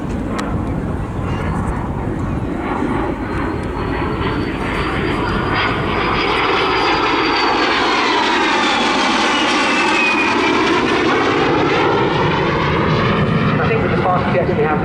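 A de Havilland Vampire FB52 jet, Norwegian-operated, flying at Southport Airshow 2024, its engine roar loud and steady throughout, swelling and shifting in pitch as it passes, with faint commentary beneath.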